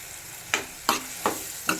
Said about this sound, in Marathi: हलवून परत झाकून द्यायचं म्हणजे शिजून पाणी